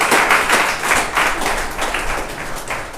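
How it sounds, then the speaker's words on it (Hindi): An audience at a church morning session claps to welcome guests, a dense, steady round of applause that holds throughout before tapering slightly near the end. "ओके, तो आप ताली बजा सकते हैं।"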